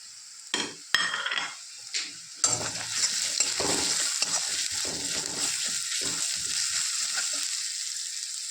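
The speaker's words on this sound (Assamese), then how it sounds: "এনেদৰে অকণমান লাৰি ল'ব" Ginger-garlic paste with cumin, coriander, red chilli and garam masala sizzling in a pan as a spoon stirs it for aloo paratha filling, a few sharp utensil scrapes first, then steady frying hiss with soft stirring.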